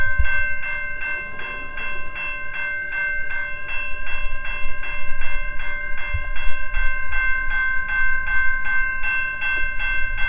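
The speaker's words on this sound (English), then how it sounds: "Looks like they're backing the train up." A freight train with grain cars backs slowly past a level crossing, with a crossing bell ringing in a steady, rapid rhythm over low rumbling and occasional clanks from the cars.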